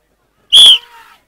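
A referee's whistle gives one sharp, loud blast to start a bullock race in a mud ploughing competition, the shrill tone cutting off quickly and leaving a faint tail in a quiet setting.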